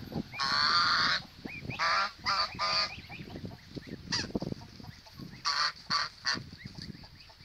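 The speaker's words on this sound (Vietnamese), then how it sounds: "Ngỗng nè," Geese on a small farm in the Mekong Delta honk in loud, close bursts, a cluster of calls early on, then scattered honks and a final series of short repeated calls over background farmyard noise.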